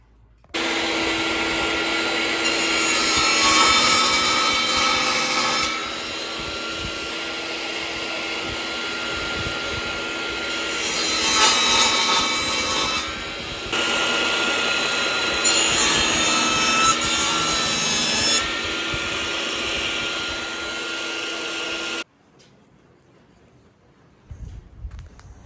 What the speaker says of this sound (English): Okay, I got those all sanded.